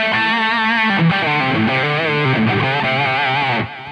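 Electric guitar played through a Line 6 Helix on its Soldano SLO-100 amp model, heavily distorted: a loud, sustained lead line of held and sliding notes that rings on continuously before cutting off near the end, with no talking.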